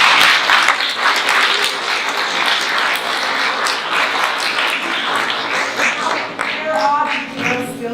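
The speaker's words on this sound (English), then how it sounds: "I was hoping for a little applause" A theater audience at a stage performance breaks into fairly loud, steady applause lasting several seconds, thinning near the end as a voice begins speaking over the last claps.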